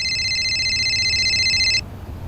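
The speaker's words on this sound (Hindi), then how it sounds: "अरे कोकिला, देखो तो किसका फोन है?" A telephone rings with a steady, bright electronic tone that holds for almost two seconds and then cuts off abruptly, leaving low background hum.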